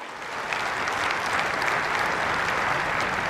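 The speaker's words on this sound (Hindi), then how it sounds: "बार जोरदार तालियां हो जाएं" Loud, dense applause rises quickly from a large audience at a national technology week inauguration and holds at full strength, a steady uniform roar of clapping.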